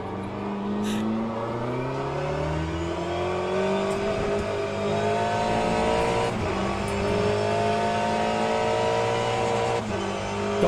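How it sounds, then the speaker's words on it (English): A Porsche race car in the Le Mans Ultimate racing game roars past with a steady, rising and falling engine whine, gear shifts stepping the pitch over about ten seconds of continuous loud running with no voices. "Let this Porsche come past and we'll follow him round."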